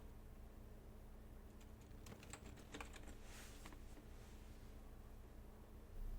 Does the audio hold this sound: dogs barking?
no